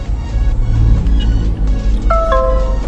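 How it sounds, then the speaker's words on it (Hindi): A short electronic chime of two descending tones, a low-pressure warning, sounds over a loud, steady engine rumble inside a Mahindra Alturas G4. "ये साउंड आ रहा है बिकॉज ऑफ लो प्रेशर"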